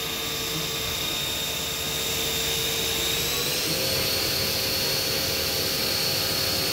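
A Hurco VMX-42 vertical machining center spindle spins at 5,000 RPM with a steady, loud high-pitched whine over a broadband hum. The tone holds, then steps slightly higher partway through, with no talk.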